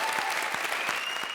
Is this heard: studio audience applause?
yes